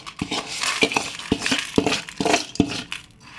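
Roasted spices for kara kuzhambu poured from a pan onto a plate, a quick series of light clinks and scraping taps in an irregular rhythm, close and fairly loud.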